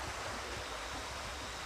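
A village river flows steadily past its bank, a constant rushing wash of water that holds an even level from start to finish, with no voices over it.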